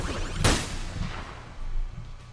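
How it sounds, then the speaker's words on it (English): Thompson submachine gun, the Tommy gun, firing in the Enter the Gungeon video game: a sharp burst near the start that fades quickly, followed by fainter low rumbling shots. "I will use this Thompson submachine gun, aka zombie gun, aka Tommy gun"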